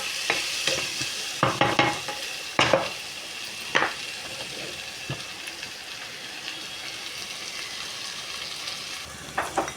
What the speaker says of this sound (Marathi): मी कांद्यासोबत कोकोनट सुद्धा टाकत आहे, फ्राय होत आहे। कोकोनट रोस्ट होत आहे।